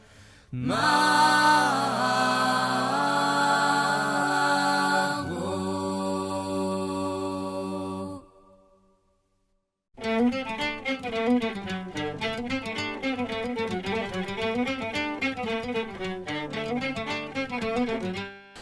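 Recorded folk music plays: sustained droning instrumental chords fade out into a brief silence, then a busier ensemble piece with rhythmic plucked and bowed parts begins.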